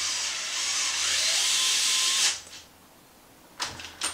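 A power driver whirs steadily for about two seconds while a screw tightens into a countersunk hinge pin on a radio-controlled truck, then stops, followed by a couple of brief clicks.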